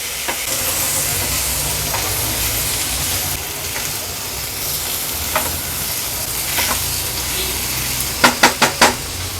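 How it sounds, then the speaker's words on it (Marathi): Baby shark pieces sauté in a spice paste with a steady close sizzle and stirring scrapes, ending in a quick run of four sharp utensil taps. "आणि व्यवस्थित ह्या मसाल्यामध्ये परतून घ्यायची आहे"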